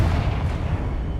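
Confringo fire-blast spell from the video game Hogwarts Legacy: a loud, rumbling explosive boom with dense low-end energy and a steady roar that fills the whole moment, with no talk.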